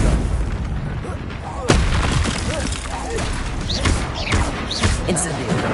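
Confringo blasting spells in Hogwarts Legacy boom loudly in the thick of a chaotic duel, with sharp impacts and crackles layered over dense combat noise and a speaking voice.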